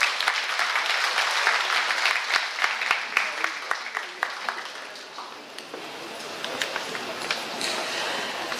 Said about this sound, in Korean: 큰 박수를 화면 부탁드립니다